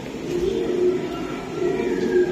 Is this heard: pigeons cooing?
yes